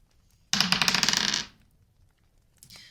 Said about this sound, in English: Now I am mhm. rolling my dice in real life, so I will apologize to you and I will apologize to the recording if it is very loud.